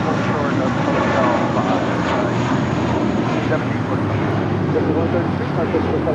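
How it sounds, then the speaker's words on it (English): A JetBlue Airways Airbus A320 jet at LAX produces a loud, broad, continuous engine roar that fills the whole moment without letup, close and steady. "That was JetBlue Airways Flight 132 heading to Orlando in an A320"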